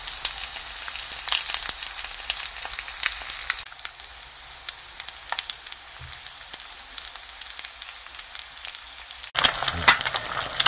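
A hamburg steak patty topped with cheese sizzles in a pan, a steady, dense crackling fry with scattered pops that runs throughout and grows briefly louder and rougher near the end.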